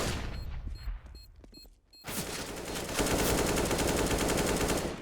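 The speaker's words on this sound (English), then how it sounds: "Trying to shoot him through the wall there." Bursts of rapid automatic gunfire fired through a wall in Counter-Strike, a few sharp shots at first, then a sustained loud volley that fills the rest of the moment.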